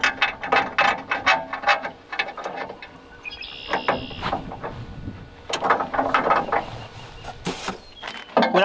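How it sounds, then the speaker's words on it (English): A ratchet driving bolts to fit bolt-on hooks onto a bucket, giving close rapid clicking bursts separated by short pauses, with faint birdsong outdoors in the background. "Now we'll just screw these on real quick."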